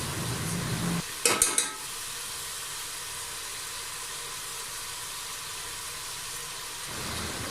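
Beef qeema with cumin powder stirred in a pot: a brief clattering burst of spoon against metal early on, then a steady, even sizzle and hiss of cooking meat that continues alone to the end.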